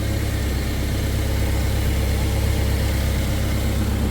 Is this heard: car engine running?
yes